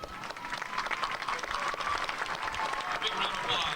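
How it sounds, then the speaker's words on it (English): Sustained audience applause fills an 8th grade graduation ceremony at Cerro Villa, many hands clapping in a dense, steady roar that holds at even loudness throughout. "A big round of applause."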